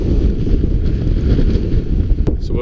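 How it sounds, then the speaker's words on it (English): Strong wind roaring into a camera microphone on a hike in the Dolly Sods area of West Virginia, a dense, loud low rumble throughout, with a brief voice at the very end. "Holy crap, it's windy."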